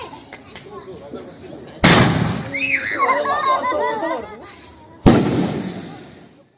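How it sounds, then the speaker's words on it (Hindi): Maruti Fire Rock Topiya sky shot fireworks set off during Diwali testing, giving two sharp loud bangs a few seconds apart, with whistling, crackling bursts in between and people talking throughout. "इसके बाद दोस्तों हम टेस्टिंग करेंगे मारुति फायर रॉक के ही टोपिया स्काई शॉट की।"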